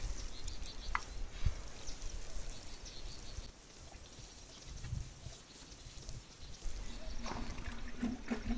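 Water poured over a homemade biological compost pile, a steady soft splashing and trickling outdoors with occasional faint bird and animal sounds in the background.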